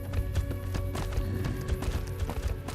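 Hoofsteps of a bighorner cow following along in the video game Fallout: New Vegas, a busy run of clopping steps over a dense, loud game soundscape.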